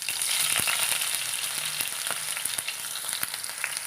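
Mustard seeds and ginger frying in hot oil for a prawn curry, a dense continuous sizzle with scattered crackles and tiny pops throughout, close and steady, no talking.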